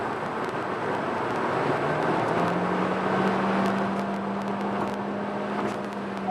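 A Kia Soul Booster 1.6 T-GDi cruises at speed on a highway in sport mode, heard from inside as a steady broadband road and engine drone with a faint rising tone, no talking.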